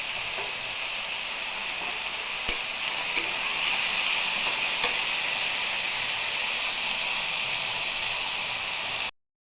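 Potatoes fry in a pan with salt and turmeric, giving a steady hissing sizzle that holds for several seconds with a few faint stirring clicks, then cuts off abruptly.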